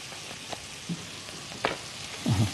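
Onions sizzle quietly in a pan on an Egyptian kitchen stove during chicken liver musakhan preparation, a faint steady fry with a few brief stirring scrapes and clinks.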